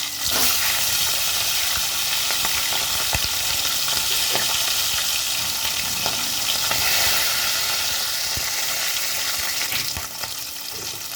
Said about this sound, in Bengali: মাথাটার এক পিঠ ভাজা হয়ে গেছে, আরেক পিঠ উল্টে দেবো।